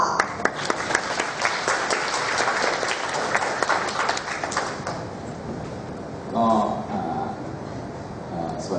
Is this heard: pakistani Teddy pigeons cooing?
no